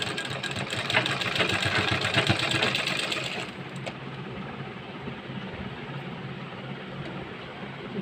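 A sewing machine stitches a U-shaped palazzo with cord, giving a rapid, steady mechanical whir. It runs loud and close for about three seconds, then drops to a quieter continuous hum.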